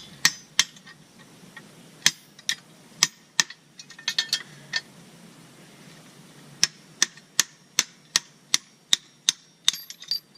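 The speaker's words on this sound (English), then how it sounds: "We're just going to have to pound it out with the hammer" Sharp metallic hammer strikes ring out while pounding out a clogged part on farm equipment, single blows at first, then a steady run of evenly spaced hits, loud and close.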